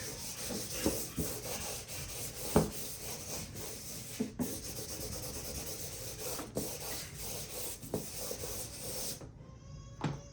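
A blending stump rubs compressed charcoal across paper in steady, close scratchy strokes, with occasional firmer scrapes over about ten seconds.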